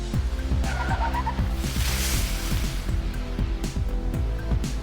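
A car skids across an icy Minnesota interstate, with a rapid series of short tire squeals and scrapes pulsing steadily over a low engine drone.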